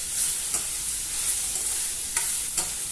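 Fenugreek leaves fry in oil while being stirred, a close, steady sizzle broken by a few sharp scraping clicks from the spoon, with no speech.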